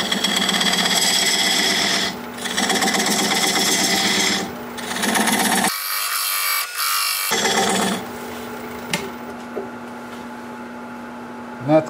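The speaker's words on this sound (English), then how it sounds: "I'm just going to use this diamond point tool to square up the sides of the tenon" A diamond point tool squares the tenon of a wooden bowl on a spinning lathe, giving a buzzing scrape in several passes with brief gaps, followed by a quieter lathe hum and a final clunk.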